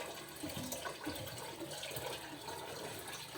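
Water splashes and gurgles steadily, as if poured or emptied from a container at home during kids' cooking play, with continuous broadband splashing and no talk.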